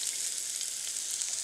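Onions frying in hot canola oil in a pan, a steady, close hiss of sizzling that holds even and unbroken throughout with no talk.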